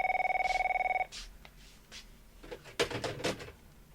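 An electronic telephone ringing in a fast repeated trill for about a second, then stops, followed by clunks and rustling handling noises.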